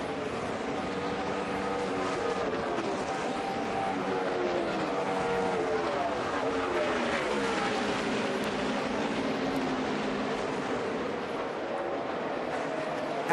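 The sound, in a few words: NASCAR Sprint Cup race cars racing the final lap at Homestead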